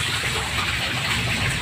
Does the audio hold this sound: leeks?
no